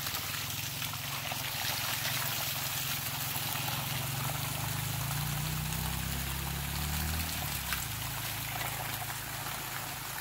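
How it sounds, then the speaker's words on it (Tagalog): Strong water gushing through an irrigation line into a banana plantation of lakatan plants, a loud continuous rushing flow with deep gurgling, close by and steady throughout. "Ganun kalakas ang tubig dito."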